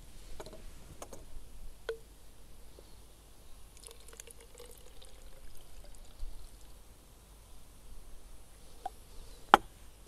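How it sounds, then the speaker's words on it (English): Dissolved sepia toner solution is poured into a small bottle, giving faint trickling and a few soft clinks and ticks against a quiet background. "And I'll put it in my small bottle"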